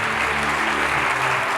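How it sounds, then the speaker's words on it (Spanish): A church congregation applauding during a Spanish-language service, a dense, steady wash of clapping close by that fills the whole moment without pause. "Quiero que le des el mejor aplauso al Señor."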